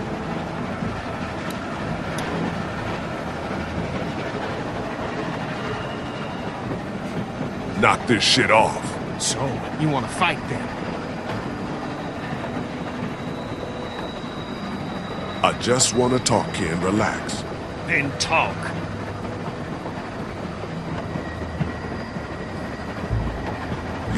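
A moving train in The Walking Dead game rumbles steadily beneath a tense argument between two men, with clattering wheel noise and occasional sharp metallic bursts.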